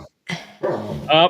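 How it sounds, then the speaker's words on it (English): A dog makes short, rough, rumbling growls in three bursts close by, separated by brief pauses. "That is the dog. It's not someone trying to start a motorbike."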